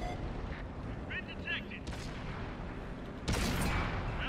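Tank cannon fire in a war video game, a heavy boom with a loud burst near the end over a constant rumbling background, with brief game voice sounds.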